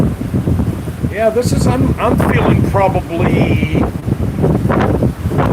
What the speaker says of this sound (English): 40 mile an hour gusts are hitting me right now